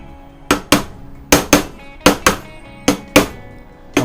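A hammer strikes a cast iron part of a 25-litre air compressor during repair, ten sharp metallic blows in uneven pairs with brief ringing decays, close and loud with no talk.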